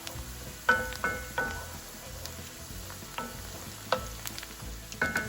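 Carrots and celery cooking in a pot for chicken pot pie, a soft continuous sizzle under scattered spoon scrapes and clinks against the pot, close and fairly quiet.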